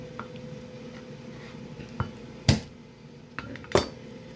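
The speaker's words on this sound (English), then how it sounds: "Once you got it on top of the clove, take your fist and just pop it." A fist strikes the flat of a knife blade laid on a garlic clove, giving two sharp close thuds with a metallic clack, a softer tap between them, against quiet kitchen background.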